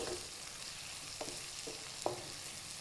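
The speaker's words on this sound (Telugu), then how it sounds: "ఈ చిన్న ఉల్లిపాయలని ఇందులో వేసేసుకోవాలి వేసేసుకొని నూనెలో బాగా కలిసేలాగా కలుపుకోవాలి" Small onions fry in oil for a Telugu onion pulusu, a soft, steady sizzle with a few quiet stirring clinks, faint and close, no talking.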